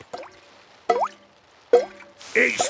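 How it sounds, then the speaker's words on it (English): Cartoon water drips plop one by one through a leaking school roof on a rainy day, four separate bright drips spaced about a second apart, with a short splashy burst at the end. "It is raining and the school roof is leaking again"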